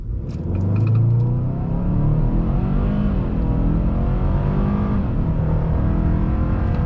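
A 2.5 turbo four-cylinder Hyundai Santa Cruz pickup accelerates at full throttle in sport mode, a loud droning engine note climbing steadily in pitch through the run, heard from inside the cabin with no talking.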